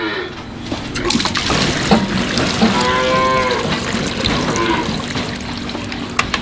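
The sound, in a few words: calves mooing at feeding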